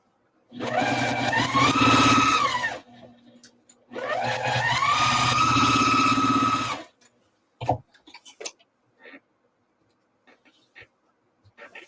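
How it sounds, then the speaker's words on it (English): A sewing machine stitches quilt rows together in two steady runs of a few seconds each, its motor whirring up to speed, then stops, followed by scattered soft clicks and handling taps. "Just have to nest the seams when I sew the rows together."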